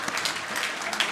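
An audience claps in a short burst of scattered applause at an economic summit talk, loud and dense for about a second.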